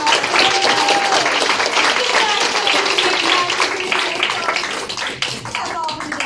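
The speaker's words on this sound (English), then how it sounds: "Let's have a round of applause." A game-show studio audience applauds steadily, dense clapping filling the whole stretch with a few whistles and voices mixed in, tapering slightly toward the end.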